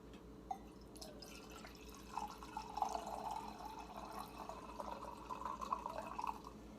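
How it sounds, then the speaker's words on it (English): Red wine is poured from a green bottle into a cup, making a soft, steady trickling gurgle that runs for several seconds, close and faint, with no talk. "I'm pouring myself a glass while I cook up a delicious bacon cheeseburger"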